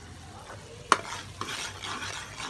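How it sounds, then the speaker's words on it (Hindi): Spice masala being stirred into chana dal in a pot, a soft scraping stir with one sharp clink of a utensil against the pot partway through, close and fairly quiet with no talking. "अब इस मसाले को अच्छे तरीके से हम मिक्स करेंगे।"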